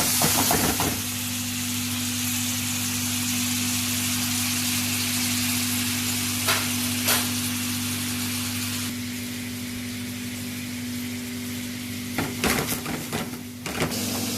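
Food fries steadily in a pan for pasta trofie with octopus and potatoes, a continuous close sizzle and hiss under a constant low hum, with a few sharp clatters near the end.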